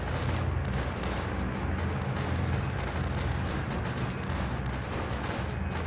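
Bombs exploding in the Northend Tower Defense video game, a dense, steady rumble of overlapping blasts and battle noise lasting several seconds, with faint high pings recurring on top.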